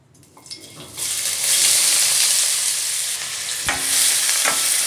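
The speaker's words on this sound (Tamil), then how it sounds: "இப்போது இதில் 3 சின்னதாக பெரிய வெங்காயம் கட் பண்ணி வச்சுருக்கேன், அதை சேர்த்துக்கிறேன்" Three chopped onions hit hot oil in a pan for a hotel-style fish curry, bursting into a loud, continuous sizzle after a quiet start, with a couple of utensil knocks from stirring.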